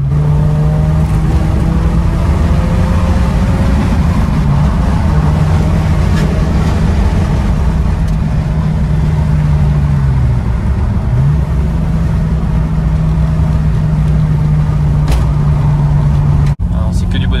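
An old Volkswagen Golf 1 GTI engine drones steadily at close range while driving, its pitch dipping briefly midway, with a faint whine and road noise throughout.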